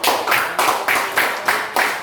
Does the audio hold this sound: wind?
no